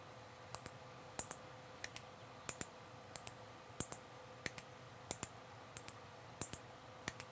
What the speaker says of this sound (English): you should hear 4 of them clicking now